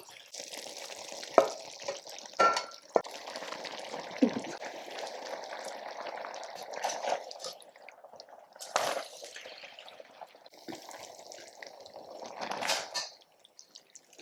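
Conch cooking in a pot as eggplant goes in for a Caribbean curry, giving a steady wet bubbling and frying hiss with scattered stirring clatters and drips throughout.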